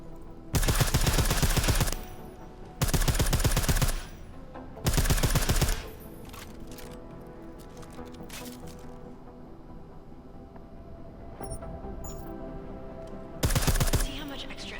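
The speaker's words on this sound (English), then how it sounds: "I like how silencers reduce sound, but the trade-off is less stopping power" Four loud bursts of rapid automatic gunfire with a silenced weapon in Deus Ex: Mankind Divided, each lasting about a second, separated by quieter stretches of low in-game ambience.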